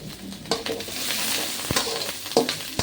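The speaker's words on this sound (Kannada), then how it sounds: "ಕರಿಬೇವು ಸೊಪ್ಪನೂ ಈರುಳ್ಳಿನೂ ನೀಟಾಗಿ ಫ್ರೈ ಮಾಡ್ಕೊಳ್ಳೋಣ" Curry leaves and onions frying in a pan for mutton sukka, a steady close sizzle with occasional spoon scrapes and stirring knocks, no talking.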